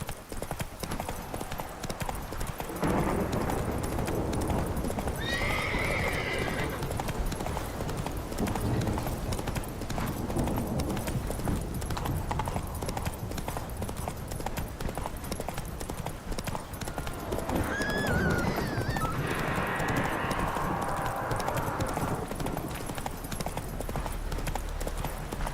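Roach, the horse in The Witcher 3, gallops along with steady rhythmic hoof clip-clops at moderate distance, a few brighter accents, and a voice speaking faintly now and then.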